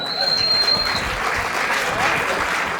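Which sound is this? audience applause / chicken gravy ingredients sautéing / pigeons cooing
audience applause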